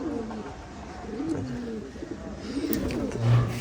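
Pigeons cooing in a home loft on a cold day, several low soft coos repeating in slow phrases, close and fairly quiet, with one deeper coo near the end.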